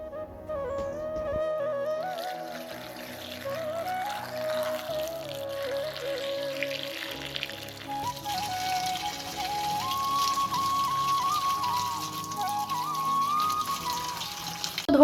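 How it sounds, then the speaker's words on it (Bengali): Peeled mangoes being washed in a basin of water in a Bangladeshi village kitchen, steady close splashing and trickling with faint tonal background sounds and no talk. "এখন আমি ধুয়ে নেব।"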